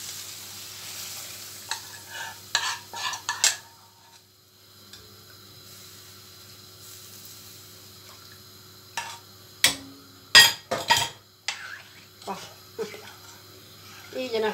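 Scraping stirs through arabaşı soup with chicken and water in a pot on the stove in bursts, over a low sizzling hum, with quiet gaps between.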